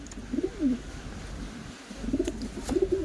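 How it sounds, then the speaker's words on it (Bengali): Male pigeons at a pigeon sale coo in repeated low, throaty phrases. The calls come in two bursts at the start and end of the clip with a quiet gap between them, and faint background noise runs throughout. "এটা নর কবুতর।"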